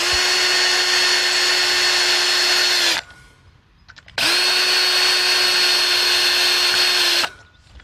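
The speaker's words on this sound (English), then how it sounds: "I use the electric drill, which makes it a little faster" An electric drill whirs loudly in two sustained runs of about three seconds each, separated by a brief pause with faint clicks.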